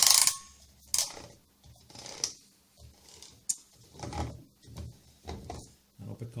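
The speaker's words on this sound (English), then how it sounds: "So to do that, you literally just unscrew it off the top." Bean hopper being unscrewed from the top of a Cuisinart burr coffee grinder, giving a series of short plastic clicks and scrapes with pauses between turns, close up and fairly quiet.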